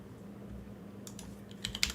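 Someone types on a computer keyboard: a few scattered soft key clicks arrive late, after a quiet stretch over a low steady hum, near and faint with no talk.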